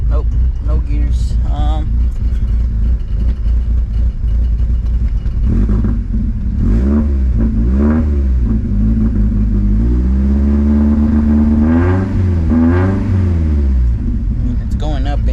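A car engine revving and bogging in gear after a clutch repair, loud rising and falling revs with a near stall, close up, with people talking over it.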